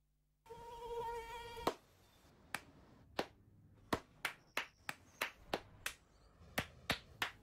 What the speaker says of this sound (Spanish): No aplaudamos al mosquito, combatámoslo en serio.